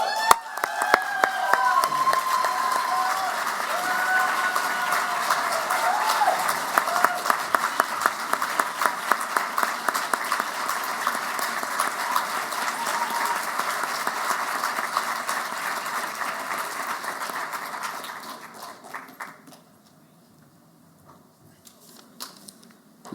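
An audience applauds contest winners at a semi-final event, loud sustained clapping for nearly twenty seconds that fades out to quiet near the end.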